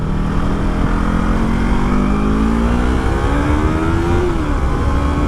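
A Yamaha R3 motorcycle cruising on a highway, its engine droning steadily and close with a slowly rising pitch under constant wind rush.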